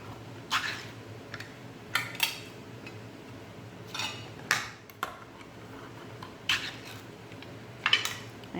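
Whole canned tomatoes being chopped inside the can, with about eight separate sharp metallic knocks and scrapes spaced irregularly over a quiet kitchen background.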